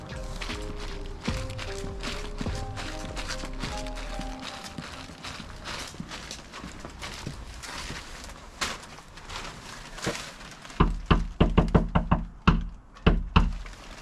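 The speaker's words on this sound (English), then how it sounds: "You don't need to knock like that" Several sharp knocks on a door come in a quick series toward the end, following a stretch of muffled background sound and movement.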